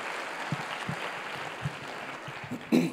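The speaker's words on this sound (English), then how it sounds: "round of applause for them" An audience at a school district professional development keynote applauds guest speakers from Miami, a modest, fairly quiet patter of clapping with a few louder claps and a bump near the end.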